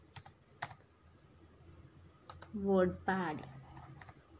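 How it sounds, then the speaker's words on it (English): Computer keyboard typing while writing words in a WordPad document, a few sparse key clicks, then a spoken voice over more scattered taps. "Now I will type few words."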